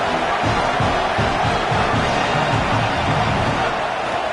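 Hostile stadium crowd in the video game College Football 27 during an LSU franchise game, a loud, dense roar of cheering and shouting that holds steady throughout.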